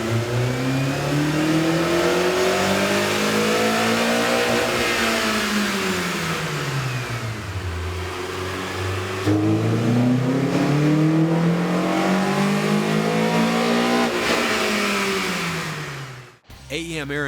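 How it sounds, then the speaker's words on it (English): A Honda Civic Si 2.4L engine fitted with an AEM air intake revs repeatedly on a dyno, climbing and falling in long sweeping pulls with a loud, close intake and exhaust roar before cutting off abruptly. "Here's a comparison of the car's sound on the dyno with the stock OEM system versus AEM's air"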